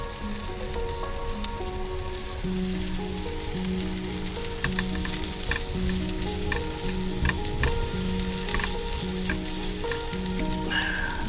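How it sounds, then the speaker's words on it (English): Spring onions frying in a pan over a campsite stove with asparagus, a strong continuous sizzle with crackling pops and occasional utensil taps, close and loud with no talking. "And in go the spring onion."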